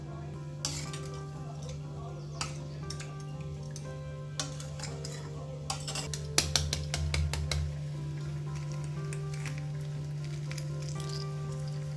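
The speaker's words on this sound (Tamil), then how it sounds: "இஞ்சி பூண்டு பேஸ்ட்டு, குழம்பு மிளகாய்த்தூள், காஷ்மீரி மிளகாய்த்தூள், கரம் மசாலா இதெல்லாம் சேர்த்துட்டு நல்லா வதக்கி விட்டுட்டு" Ginger garlic paste with chili powders and garam masala sautéing in a pan for egg curry, a soft steady sizzle under a low hum, broken by sharp metallic clinks and scrapes of a spoon stirring against the pot.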